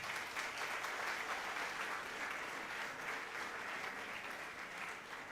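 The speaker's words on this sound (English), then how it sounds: "Please have a big round of applause for him." A conference audience in an auditorium applauds an award presented in absentia at an MBA event, with dense, steady clapping sustained at a fairly even level from start to finish and no voices over it.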